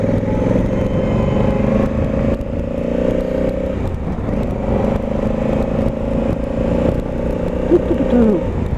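An adventure motorcycle ridden through city streets, its engine humming steadily up close with a constant drone and light clatter, wind and road rumble mixed in, no talking.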